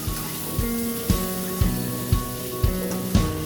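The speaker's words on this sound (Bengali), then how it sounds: "তো এইভাবে নেড়ে নেড়ে পেঁয়াজগুলোকে ভালো করে ভেজে নেবে" Chopped onions sizzle in hot oil over a high gas flame for a home-style chicken dish, with a spoon scraping the pan in a steady stirring rhythm about twice a second.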